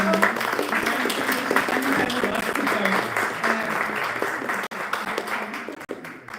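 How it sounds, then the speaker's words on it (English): An audience at a live event in Poznań applauds with dense, sustained clapping, fairly loud at first, then thinning out and tapering off near the end. "thank you to Anya. Big applause."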